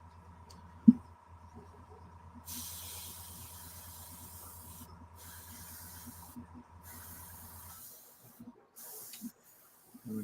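An airbrush sprays green paint in a soft, breathy hiss that comes in short on-off bursts over a low steady compressor hum, with a sharp click near the start.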